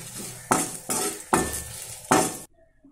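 Red chillies roast in a little oil in a pan, four sharp bursts of scraping and clattering from stirring over a light sizzle, close, before cutting to near silence.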